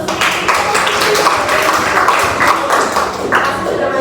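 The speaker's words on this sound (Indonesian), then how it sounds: "Oke, terima kasih Usi, tepuk tangan dulu buat Usi." Classroom applause for a student after a presentation, a dense burst of hand claps from many pupils filling the room, with faint voices mixed in.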